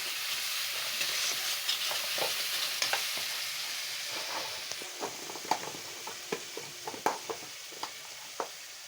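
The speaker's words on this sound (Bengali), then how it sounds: "ভালো করে নেড়ে চেড়ে নেব।" Pangas fish curry in a pan with a splash of water, stirred steadily over a gas flame, with a soft continuous sizzle and scraping spoon taps that grow more frequent near the end; nobody speaks.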